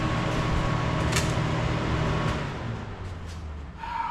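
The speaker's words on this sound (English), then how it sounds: "I'm sorry about the fan." Electric fan whirring steadily in a hot garage during engine work on a PT Cruiser, a constant close broadband hum with a few faint knocks, no talking.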